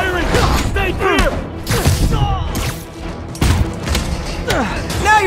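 Gunfire and combat in the Marvel's Spider-Man Remastered video game, loud repeated bursts and thuds with whooshes, while game characters shout over the action.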